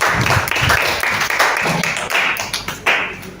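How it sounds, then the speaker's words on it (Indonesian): A group of teachers in a training session gives a short round of applause for those who succeeded, with dense, steady clapping that lasts about three seconds. "Terima kasih, tepuk tangan dulu buat yang sudah berhasil."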